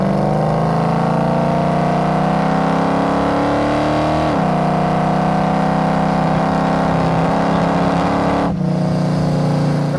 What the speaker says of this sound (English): we're gonna roll into the throttle one more time just because it is a frickin' blast to drive